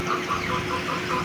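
Chickens clucking inside a poultry shed, with repeated short clucks at a steady, loose rhythm over a constant background hum from the housing. There is no talk.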